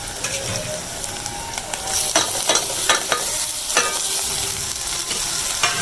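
Onion and tomato masala with green chilies, turmeric and salt frying in a pan makes a loud, close sizzle, with repeated scraping and clacking from stirring.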